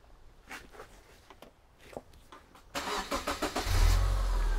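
A Subaru Legacy engine cranks with a quick series of starter pulses, then catches and settles into a loud, close, deep rumbling idle after some quieter clicks and handling noises.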